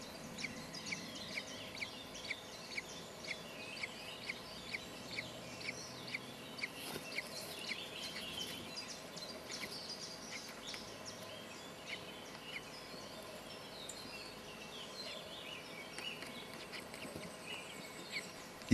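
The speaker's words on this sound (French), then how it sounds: "Il n'a que quelques heures et déjà on l'entend piailler." A newly hatched common kestrel chick, only hours old, peeps in a steady series of short, evenly spaced high calls for several seconds, then the calling grows softer and blends into a busier background of faint bird sounds.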